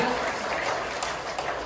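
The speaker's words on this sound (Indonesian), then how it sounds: "Tepuk tangan bagi Bapak Ibu sekalian." An audience at a business seminar bursts into applause, a brief dense wash of clapping that stays loud and even throughout, with some voices mixed in.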